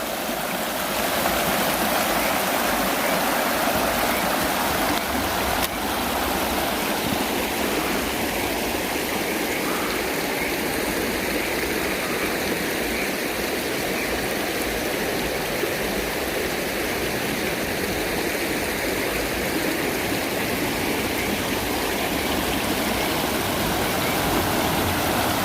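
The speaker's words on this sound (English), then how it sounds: "We're walking down the creek, literally." Steady, close rush of creek water flowing over rocks, a continuous broadband babble that holds evenly throughout with no talking.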